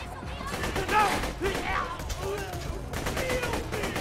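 Gunfire in Borderlands 2, a short spell of rapid, clattering shots in quick bursts at moderate loudness, mixed with game voices and effects.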